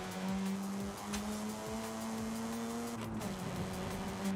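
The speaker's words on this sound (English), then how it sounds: "Of course, rotary engines do sometimes sound like lawnmowers." A rotary-engined car in the racing game Forza Horizon 5 revs and holds a buzzy, droning engine note, with shifting pitch and brief gear changes, fairly quiet and with no talking.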